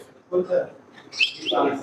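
A pet ringneck parrot calling at a bird market, a few short squawky chirps close by with a voice speaking faintly between them.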